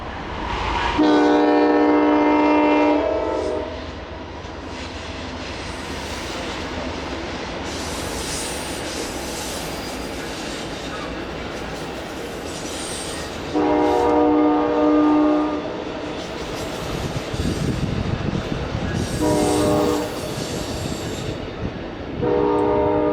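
An Amtrak California Zephyr passenger train rumbles out of the Moffat Tunnel with wheels squealing and screeching in repeated bursts, its horn-like tones rising and falling, loud and close throughout.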